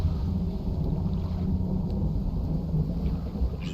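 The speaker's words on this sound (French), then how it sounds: "Juste l'orage." Thunderstorm rumbling in the fishing game Dredge, a continuous deep low roar with rain-like hiss that stays steady and fairly loud throughout, with no talk.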